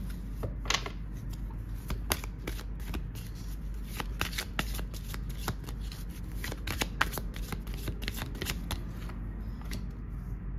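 Mission d'âme oracle cards are shuffled by hand nearby, giving quick repeated riffling and slapping bursts in an irregular rhythm that continues throughout, with no talking.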